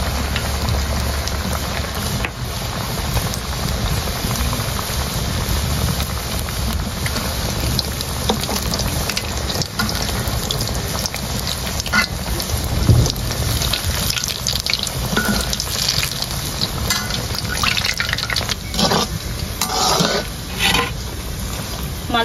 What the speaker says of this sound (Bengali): কমিয়ে আস্তে আস্তে সুন্দর করে ভেজে নেবেন।